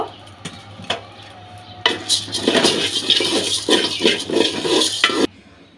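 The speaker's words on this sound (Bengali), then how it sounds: "এইভাবে অনবরত নেড়ে নেড়ে আমি এটা চালটা ভেজে নেব" Rice dry-roasting in an open pot is stirred steadily with a spoon, giving repeated scraping and rattling strokes that grow busier midway, close and fairly loud with no voices.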